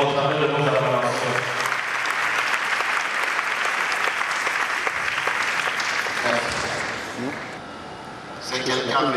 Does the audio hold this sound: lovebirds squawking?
no